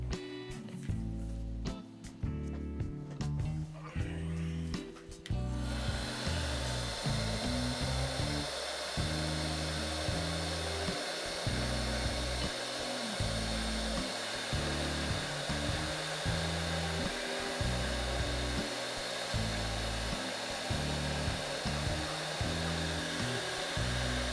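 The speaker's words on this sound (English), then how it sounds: "Get the heat gun out." A heat gun blows hot air in a steady, loud whooshing roar close by, with some clattering handling noises at the start before the continuous blowing settles in.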